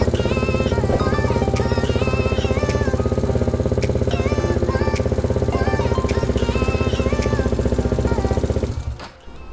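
A motorcycle engine fitted with an AQS Quickshifter Pro kit running at a fast, even idle, a close, loud, rhythmic chugging putter that holds steady and then cuts off near the end.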